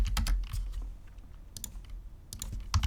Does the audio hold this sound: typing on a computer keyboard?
yes